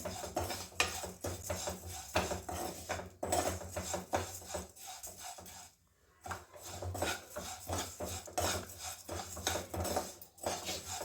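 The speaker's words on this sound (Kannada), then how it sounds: "ಇವಾಗ ತುಪ್ಪದ ಜೊತೆ ಹಾಕೋತಾ ಇದ್ದೀನಿ ಇದನ್ನು ಚೆನ್ನಾಗಿ ಮಿಕ್ಸ್ ಮಾಡ್ಕೋಬೇಕು ತುಪ್ಪದ ಜೊತೆಗೆ" Roasted poha being stirred into hot ghee in a pan for avalakki halwa, a steady scraping and clinking of a spoon against the metal pan that runs almost continuously, with one short pause.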